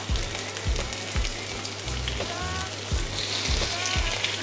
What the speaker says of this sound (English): So you can see it's already sizzling.